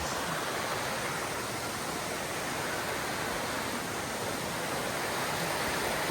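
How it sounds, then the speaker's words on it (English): A steady, rushing roar of Comer's Creek Falls on the Appalachian Trail, constant and unbroken, heard from a short distance with no voices. "coming up on Comer's Creek Falls. You can kind of hear it to the left."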